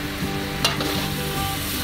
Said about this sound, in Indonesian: setelah itu kita aduk-aduk sebentar agar bubuk lada hitamnya ini bisa tersebar merata